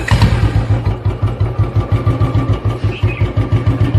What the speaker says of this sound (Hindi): अरे चलो अब मैं स्कूटर चालू कर देती हूँ।